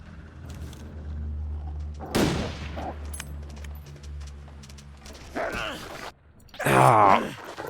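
A single loud rifle shot cracks out early in The Long Dark, a survival video game, and then decays into quiet ambience. Harsh snarling animal bursts follow near the end.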